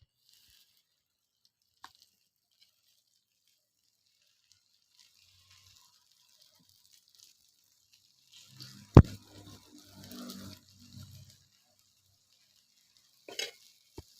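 Kara kuzhi paniyaram batter hits hot oil in a paniyaram pan, giving a short, faint sizzle and sputter midway through an otherwise near-silent stretch, with a soft tap near the end.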